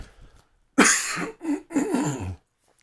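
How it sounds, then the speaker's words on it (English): A person clears their throat with a few rough, forceful coughing bursts, close and fairly loud, separated by brief pauses. "Let me clear my throat on this."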